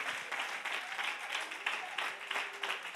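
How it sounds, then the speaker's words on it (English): A church congregation claps and applauds after a sermon on wealth and financial freedom, a steady dense clatter of many hands that carries on without a break and sits fairly close. "Clap your hands one more time."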